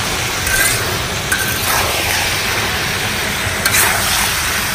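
Spaghetti being stirred on a sizzling disc grill for a Mongolian-style dish, a steady loud hiss of frying with occasional soft scrapes and clinks of the utensil.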